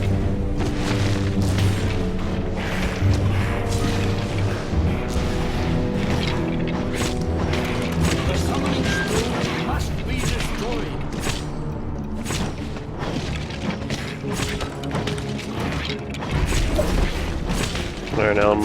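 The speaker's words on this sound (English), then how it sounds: "You want to try to hit him with your AoE attack," Fire bomb area attack explosions from the video game Gauntlet: repeated booms and crashing thuds over a busy game soundtrack, with impacts scattered throughout and steady loud action noise.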